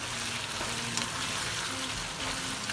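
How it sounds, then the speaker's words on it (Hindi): Chicken sizzles and fries in a pot over high heat for a white chicken qorma, a steady broadband crackle and hiss that stays close and even throughout with no talking. "हमने आग को थोड़ा सा जो है तेज ही रखना, ताकि चिकन का पानी खुश्क हो जाए"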